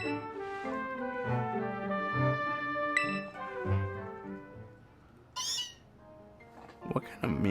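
A Meowth cry in Pokémon Violet, a tonal, melodic meowing call repeated in several short phrases against game music, with a brief sharp effect near the end.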